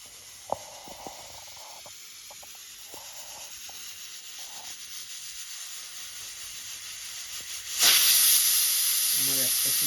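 A pressure cooker on a gas flame, cooking South Indian style tomato rice, lets out a loud, sudden hissing steam whistle near the end, after a stretch of low steady hiss with a few faint clicks and knocks.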